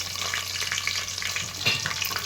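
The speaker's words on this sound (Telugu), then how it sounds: "ఇప్పుడు ఆనియన్స్ ఫ్రై అయినాయండి" Onions and chillies fry in a pan for mutton biryani, giving a continuous close sizzle and crackle with occasional stirring scrapes and no voices.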